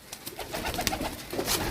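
Pigeons coo softly on a rooftop, several soft, repeated murmuring calls overlapping at a modest distance with faint background noise.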